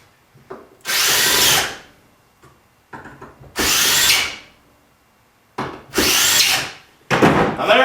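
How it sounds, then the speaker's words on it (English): A power drill drives screws into a wooden broomstick or broken shovel handle in three loud, close whirring bursts, each a second or so long, with clicks and handling noise between them and a final rising burst at the end. "Drive a couple of screws into it."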